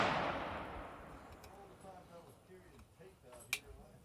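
A Bergara B14HMR rifle fires during load testing at a range: a loud shot rings out and decays at the start, followed by a sharp crack near the end.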